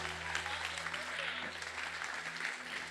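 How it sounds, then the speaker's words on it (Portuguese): Applause from a church congregation during a sermon, a steady wash of clapping at moderate distance, with a low sustained hum underneath. "Celebra com honra, aplauda com honra"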